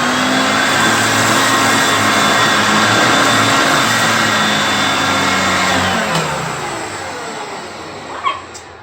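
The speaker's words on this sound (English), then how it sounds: "we're going to use the Hoover Concept" A Hoover Concept One vacuum cleaner runs with a loud, steady motor whine and airflow roar for several seconds, then winds down and fades near the end, ending with a brief click.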